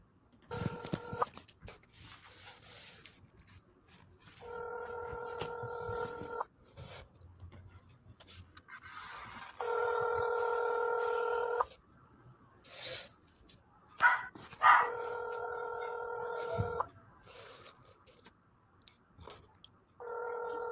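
A recorded phone call plays several bursts of dialing and ringing tones separated by pauses, while a dog barks and whimpers intermittently in the background and faint noises come and go.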